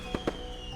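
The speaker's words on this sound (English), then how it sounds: "Somewhere nearby, fireworks popped" Two sharp pops of fireworks go off outdoors near a hotel during a Valentine's celebration, fairly close and separated by a short gap, with steady ambient noise around them.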